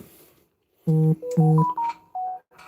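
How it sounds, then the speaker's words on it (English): A phone notification plays as a short, clear melodic chime of several distinct tones in quick succession, close and alone over a quiet background. "I don't know why I didn't turn off my sound on my phone."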